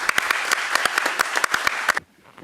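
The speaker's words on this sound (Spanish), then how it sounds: "Aplausos." Audience applause at an arbitration congress in a university hall: steady clapping from a moderate crowd for about two seconds, then stopping abruptly into near silence.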